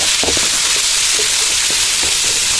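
Chopped onions sizzle and fry loudly in a hot pan for a ginataang santol dish, a dense, steady hiss with faint crackles and stirring, close and alone.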